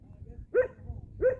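A dog barks inside a camper van converted from an ambulance, giving two sharp, evenly spaced barks at moderate volume against a quiet background.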